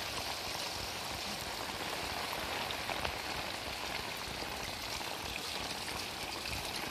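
A village stream swollen and flooding after heavy rain makes a continuous, even rushing roar of water, unbroken and without voices.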